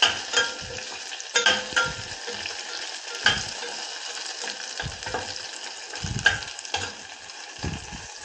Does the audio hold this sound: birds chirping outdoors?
no